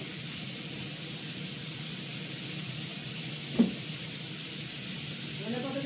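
Spices and green chilli fry in hot oil with a constant, even sizzling hiss, plus one brief clatter near the middle.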